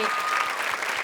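Audience applause at a debate competition, a loud, steady burst of many hands clapping close by throughout.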